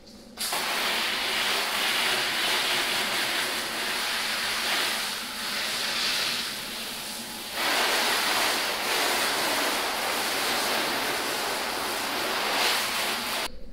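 A steady, loud hiss of water spraying and pattering continuously against a car's body, close up, with a brief softer dip midway and no voices.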